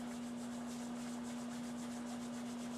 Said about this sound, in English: You put it in your hand, which kind of warms it up, and then you rub your hand together.